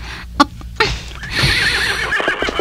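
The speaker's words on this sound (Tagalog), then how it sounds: "Si Pulding nagsakay sa kabayo kag naglakat." A horse whinnies loudly and close, with a brief snort and stamping clip-clop around it, a short outdoor burst with no talk.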